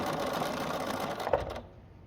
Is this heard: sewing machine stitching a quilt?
yes